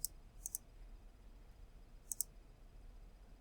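Computer mouse buttons click faintly while working in sheet metal CAD software, a few sharp isolated clicks, one single and then two quick pairs, over a quiet background.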